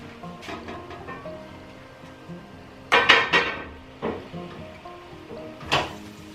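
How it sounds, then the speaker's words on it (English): A glass canning jar, its lid and ring screwed on finger tight, set down into a canning pot for jam, giving a few sharp glassy clinks and knocks near the middle and end over quiet kitchen background. "We're gonna screw it on finger tight and put that into our canning pot"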